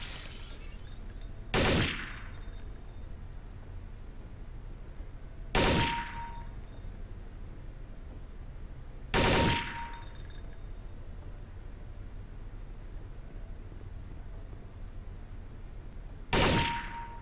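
Counter-Strike: Condition Zero training range gunfire: four separate sharp shots or very short bursts spaced several seconds apart, loud and close over a quiet hum.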